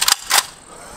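Two sharp gunshots ring out back to back at close range, fired at a private house in Pakistan, leaving a fading ring in the air afterward.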